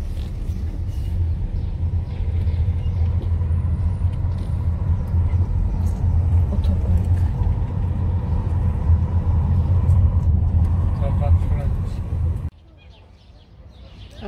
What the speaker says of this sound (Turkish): Arabayı park ettik.